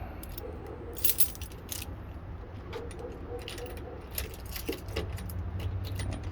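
A bunch of keys jangling and clinking as they are picked up before a walk with a dog, bright metallic rattles at intervals over a low steady background hum, close by.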